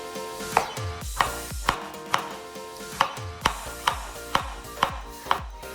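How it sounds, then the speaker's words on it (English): A knife slices a Korean cucumber on a cutting board with about a dozen crisp, steady chops at an even rhythm, close and clear, and no one talks. "Slice the cucumber."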